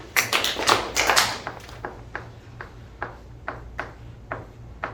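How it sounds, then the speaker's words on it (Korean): Hand claps in a math lecture classroom: a quick flurry of loud, sharp claps up front, then softer single claps spaced out evenly after it. "그렇지! 박수 3번."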